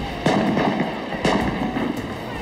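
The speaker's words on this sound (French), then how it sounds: "Nous tirâmes même quelques coups de pistolet." Pistol shots fired as signals, heard as a sound effect: two sharp reverberant cracks about a second apart, each followed by smaller crackling pops over a steady background hiss.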